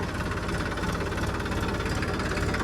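A tractor engine runs outdoors on a farm, close by, with a steady loud low rumble and a fast knocking pulse and no pauses.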